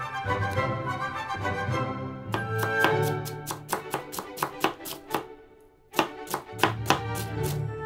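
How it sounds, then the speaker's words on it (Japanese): A knife chops half an onion on a cutting board with quick, crisp, regular strikes. A brief pause breaks the run before the steady rhythm resumes, heard close and alone under a faint background hum. "玉ねぎ半個もアッシェ。"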